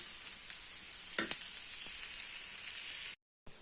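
Food sizzling steadily in a frying pan before shrimp and cream go in, a constant crackle with a few brief clinks of stirring, close up, then cutting to a moment of silence near the end.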